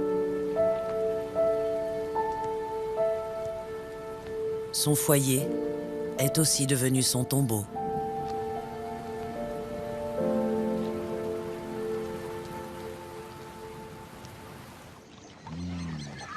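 Steady rain patters on the ground in an African savanna where hyenas live, a continuous wash running under a calm narrator's voice, with a few brief louder bursts partway through.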